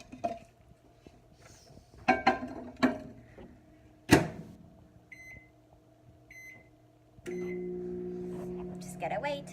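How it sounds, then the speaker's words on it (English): Handling clatter of dishes and a few short beeps from button presses, then a microwave hums steadily as it runs to melt cheese on red chilaquiles. "we're gonna put it in the microwave for about 20 seconds"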